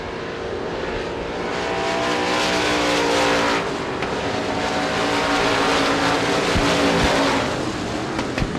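USA Limited Modified race cars roar down the back straightaway at Devils Bowl Speedway, a loud continuous engine drone with no voices.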